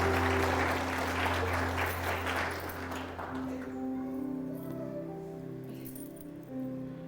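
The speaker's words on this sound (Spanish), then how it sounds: "Denle un aplauso al Señor más" Church congregation applauding their Lord together during a Spanish-language sermon, a dense wash of clapping that swells loudly at first, then thins and fades as sustained organ or keyboard chords ring out beneath.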